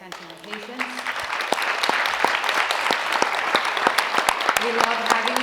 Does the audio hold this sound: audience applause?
yes